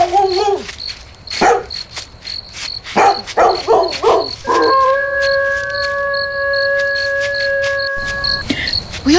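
A dog in a radio drama night scene gives several short barks, then a long sustained howl, over a constant high chirping of crickets; the dog sounds fairly close and loud.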